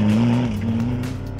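A rally car slides on a gravel stage in fog, its engine holding a strained steady note that dips briefly midway, loud and close with no talk.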